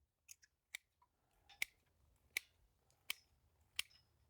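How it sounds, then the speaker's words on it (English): An old pair of garden pruners cutting woody stems: a few light clicks, then four sharp, evenly spaced snips, each a crisp close crack over faint background rustle, with no talk. "Let's use the oldest pair of pruners. See how this one works."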